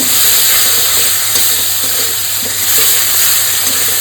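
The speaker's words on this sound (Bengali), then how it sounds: "সমস্ত কিছু একটু ভালো করে নেড়ে ভেজে নেবো।" Banana blossom stir-fried in a pan with spices and a splash of water, giving a steady, loud hiss and sizzle with faint scraping stirs throughout, no voices.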